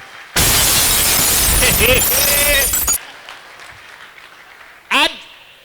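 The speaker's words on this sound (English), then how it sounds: "you clap for yourselves, ladies and gentlemen" A burst of loud crowd clapping and cheering lasts a few seconds at a live comedy show, then cuts off abruptly, leaving quiet room tone and a brief sharp noise.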